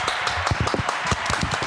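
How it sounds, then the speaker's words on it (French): Brief applause from children in a radio programme studio, a quick patter of close hand claps lasting under two seconds with no one speaking over it. "on peut l'applaudir"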